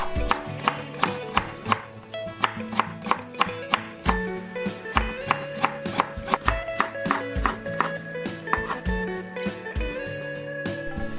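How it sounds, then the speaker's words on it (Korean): A knife julienning thinly sliced carrot taps sharply and rapidly on a cutting board over soft background music. "당근 한 개는 얇게 슬라이스하여 채 썰어 주세요."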